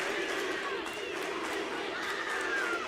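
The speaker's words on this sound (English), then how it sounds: "The crowd's with you." A wrestling crowd at a world title match cheers and chants in a steady roar, dense and continuous for the whole moment, with no break in the noise.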